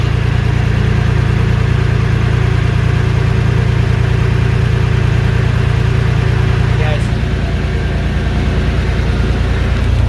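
An old boat's inboard engine runs steadily in gear with the propeller shaft turning, a loud, continuous low throbbing drone close by that holds unchanged for the whole stretch.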